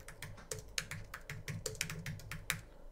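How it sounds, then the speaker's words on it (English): Fingers tap quickly and unevenly on a computer keyboard, a close, fairly quiet patter of individual key clicks with brief pauses and no speech over it. "Just typing this in here."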